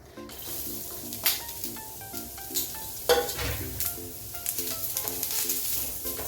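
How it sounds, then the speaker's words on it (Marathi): Onion sizzles steadily in a pan for a fish curry, with a bright, crackling fry, a few stirring clatters, and a soft tinkling melody playing in the background. "कांदा भाजून घेऊया"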